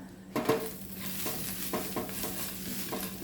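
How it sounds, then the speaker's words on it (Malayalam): Peanuts and drumstick leaves stirred in a pan over a low flame: faint scraping strokes against the pan, each a second or two apart, over a soft, steady sizzle. "ഇനി നമുക്കൊന്ന് ഇളക്കി കൊടുക്കാം"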